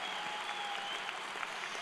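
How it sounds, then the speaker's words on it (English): Steady audience applause at a high school graduation ceremony, dense clapping from a large crowd filling the whole stretch at an even level without pause. "One more round of applause, please."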